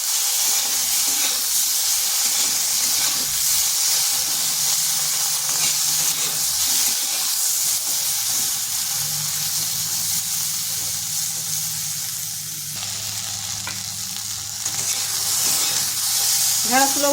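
Okra (bhindi) sizzles and fries in a pan while being stirred, a steady close hiss with scraping stir strokes throughout.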